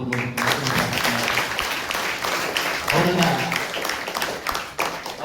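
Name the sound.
applause, clapping for teacher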